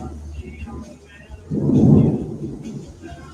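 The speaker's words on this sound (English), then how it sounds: "So the lightning is getting a little bit closer right now" Thunder from an approaching thunderstorm, one deep rumble swelling midway and fading slowly, fairly near, with someone talking faintly around it.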